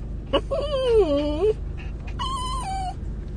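A dog whimpers and whines inside a car, its high, wavering cries rising and falling in two drawn-out bursts over the steady low rumble of the moving vehicle.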